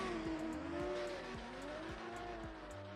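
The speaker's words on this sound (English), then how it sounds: "You got engines screaming on each turn." Racing car engines rev and howl through a drift racing video game, with repeated rising and falling engine pitches and tire squeal as cars slide through turns, loud and continuous throughout.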